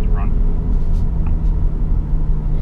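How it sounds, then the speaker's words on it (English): A 2019 Volkswagen Golf GTI TCR race car engine idles nearby, giving a steady, loud low rumble with no change in pitch. "Let the engines run"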